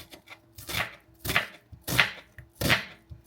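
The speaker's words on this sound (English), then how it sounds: "I'm going to chop up half an onion and then some garlic" A knife chops through half an onion and some garlic on a board, four distinct, evenly spaced blows close to the mic with quieter scraping between them.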